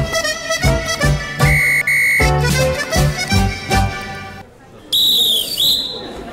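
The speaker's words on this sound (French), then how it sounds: "ce coup de sifflet pour annoncer l'arrivée d'un article en général pas très aimable sur notre invité" A loud whistle blast sounds amid a busy French television studio set, with music and talk around it, the shrill tone rising sharply near the end.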